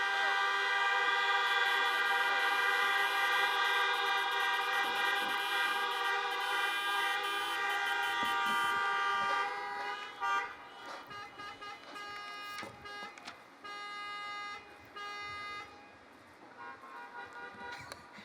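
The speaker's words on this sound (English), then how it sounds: "Honk as loud as you can." Many car horns honk together at a drive-in university graduation ceremony, a dense, sustained chorus of overlapping toots that thins into scattered, uneven honks toward the end.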